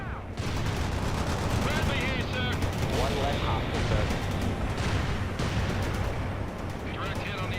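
Artillery fire support in the World in Conflict real-time strategy game: dense, continuous barrage of booming blasts and crackling gunfire, rolling and overlapping at a steady distance throughout.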